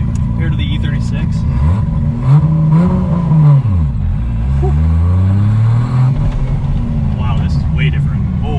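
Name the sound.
700 hp Lexus IS300 engine accelerating while driving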